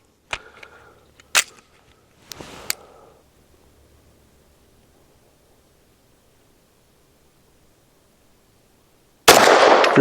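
Bersa M2XI pistol firing Blazer Reduced Recoil 100-grain rounds, three sharp reports spaced about a second apart with brief ringing tails, then near silence before a burst of noise.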